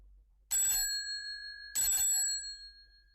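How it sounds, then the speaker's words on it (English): A doorbell rings twice, clear two-tone chimes about a second apart, each ringing bright and loud before fading, with quiet around them. "Then suddenly she ran across the road and rang Holmes's doorbell."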